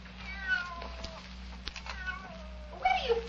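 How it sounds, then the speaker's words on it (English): A cat meows and yowls repeatedly in a radio drama, with drawn-out, wavering cries rising and falling over a low steady background hum and no voices. "Where do you come from, you stupid cat? Go away."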